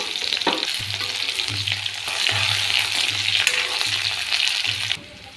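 Onion and garlic frying in a pan with bay leaf and panch phoron spices give a steady, close sizzle, broken by repeated low scraping strokes of stirring and ending abruptly.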